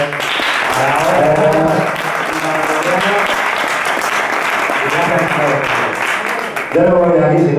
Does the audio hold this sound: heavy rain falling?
no